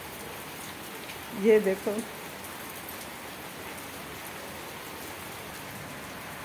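Steady rain patters continuously in the background while a person speaks briefly near the start.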